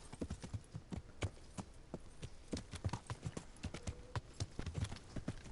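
Horse hooves clip-clopping in Kingdom Come: Deliverance, a steady dense run of hoof strikes on hard ground, close and continuous across the whole stretch, with no talking over it.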